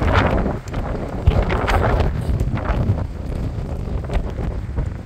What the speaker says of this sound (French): Le vent, il y a tellement de vent.